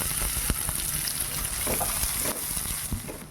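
Chopped onion sizzles and fries in hot oil in a pan alongside chillies and ginger-garlic paste, a loud, steady close-up crackle with a few stirring knocks and no talking.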